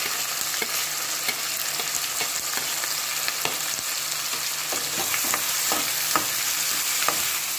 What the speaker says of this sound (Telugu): వేసి ఒకసారి బాగా వేయించుకోవాలి